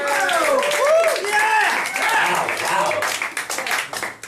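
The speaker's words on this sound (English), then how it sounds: "Thank you for your pity applause." Comedy show audience in London applauding and clapping briefly, moderately loud, mixed with chatter and voices, tapering off at the end.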